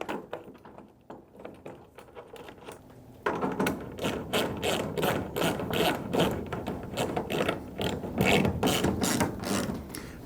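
A clamp for a Truxedo LoPro tonneau cover is tightened on a pickup bed rail: brief quiet handling, then dense rapid ratchet clicks running close and loud to the end.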